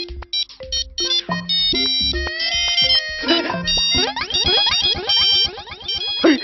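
An electronic ringtone plays a busy, jangling sequence of bright synthetic tones, shifting into faster repeating beeps, loud and close.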